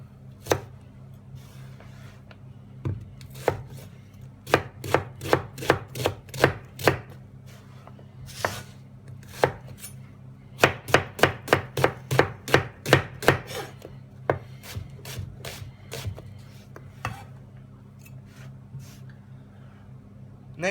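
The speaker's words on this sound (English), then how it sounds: "basically what we want to do with our onions is chop them very coarsely so that they look like that" A knife coarsely chops onions on a board for a Peruvian lomo saltado stir fry, giving crisp, close, rapid bursts of evenly spaced cuts separated by short pauses.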